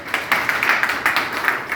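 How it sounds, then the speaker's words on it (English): An audience applauds a speaker at a talk on legal practice, a brisk patter of many hands clapping close by, steady and dense throughout. "A round of applause for her, please."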